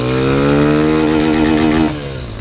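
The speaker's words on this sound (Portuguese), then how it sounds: "Deixa só a moto passar aqui" Motorcycle passing close by on a street, a loud steady engine drone that drops away near the end as it moves off.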